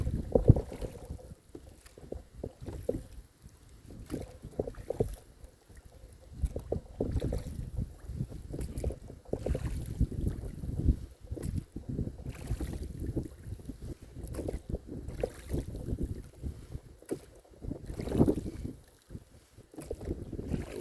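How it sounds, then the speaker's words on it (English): A headwind gusts across Lake Sonoma during a row, with steady rumbling wind noise on the microphone and the wash and splash of oars and boat over the water, rising and falling throughout. "the wind coming up this canyon is blowing out of the east"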